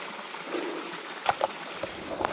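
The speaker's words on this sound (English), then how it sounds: "And there's that waterfall." A waterfall and a creek flow in a steady, fairly quiet rush of water, with a few soft knocks and splashes standing out near the end.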